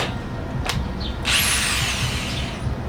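A power drill bores pilot holes for hinges during a DIY camper build in a 2017 Subaru Outback. A short burst comes first, then a loud whirring drill run with a falling whine holds steady until the end, with no voices.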